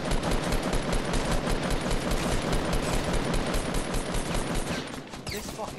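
Dense, continuous automatic gunfire from a powerful gun in Fortnite rattles loudly and steadily for nearly six seconds, tapering slightly near the end.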